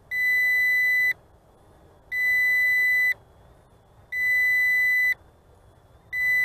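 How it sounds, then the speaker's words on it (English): A Bayangtoys X22 RC drone returning to home emits four loud, evenly spaced electronic beeps, each about a second long, with short quiet gaps between them. "And it is beeping away."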